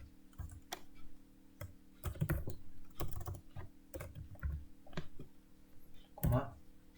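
Typing on a computer keyboard while writing program code, with irregular bursts of clicking keystrokes close to the microphone and someone speaking over them.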